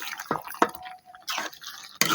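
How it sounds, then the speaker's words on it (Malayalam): Rainwater dripping and running, a few distinct close drips followed by bursts of gushing flow that start and stop abruptly. "മഴ വെള്ളം"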